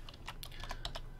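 Keyboard typing while entering Unity3D code variables: a quick run of close, crisp key clicks with irregular rhythm, alone and fairly faint.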